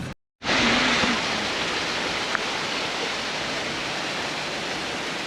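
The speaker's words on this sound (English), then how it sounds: "There's a waterfall." Waterfall along the Roaring Fork Motor Nature Trail, a steady broadband rush of falling water heard fairly close and continuous after a brief cut at the start, with no voices.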